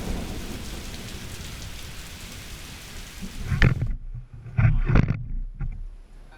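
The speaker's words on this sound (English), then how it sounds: "When it rains here, it pours." Heavy rain pouring down in the Colombian Amazon during outdoor indigenous games, a steady dense hiss that drops away partway through, followed by several low booming thumps and rumbles.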